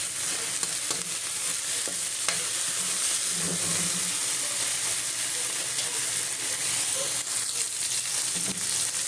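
Chili is stirred and tossed in a hot pan, giving a dense, constant sizzle with occasional soft scrapes and clicks, close and moderately loud, with no talking.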